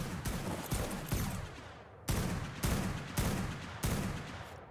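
Gunfire from the video game Ark Survival Evolved: a loud opening volley, then about four sharp, evenly spaced shots or short bursts, each with a decaying tail, close and prominent, with no talking.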